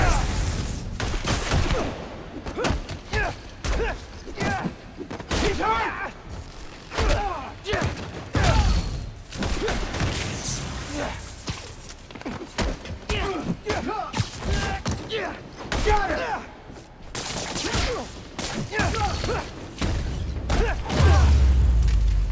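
Steady volleys of gunfire and thumping impacts in Marvel's Spider-Man Miles Morales, dense and continuous throughout, with voices occasionally mixed in and a deep rumble near the end.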